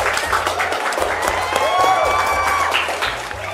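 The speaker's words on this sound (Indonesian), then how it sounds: "Beri tepuk tangan." Studio audience at a podcast talk show gives a sustained round of applause, dense clapping mixed with crowd noise and some voices, fading slightly toward the end.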